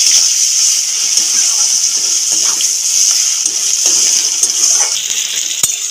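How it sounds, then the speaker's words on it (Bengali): Chopped onion with a little salt fries in a pan, giving a loud, continuous hiss and sizzle with faint clinks of stirring throughout. "পেঁয়াজটাও ভেজে নেব।"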